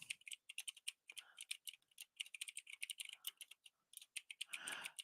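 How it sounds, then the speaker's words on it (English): Fast, uneven clatter of fingers typing on a computer keyboard, close and crisp, in rapid bursts with short pauses, no talking. "I'm typing something in the chat."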